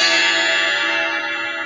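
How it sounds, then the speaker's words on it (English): A mechanical wall clock's striker hammer hits a metal gong pipe, giving one loud bright strike followed by a long ringing resonance that slowly fades. "When this striker hammer hits the gong pipe, gong vibrates and produces a long resonating sound."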